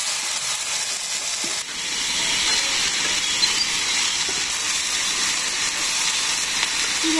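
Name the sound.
frying potato, eggplant, beans and stems in a pan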